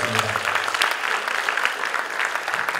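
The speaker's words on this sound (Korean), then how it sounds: "힘찬 박수로 격려해 주시고 힘찬 박수로 환영해 주시면" Crowd applause at a choral arts festival for disabled performers, steady energetic clapping throughout, with a brief voice at the very start under the hands.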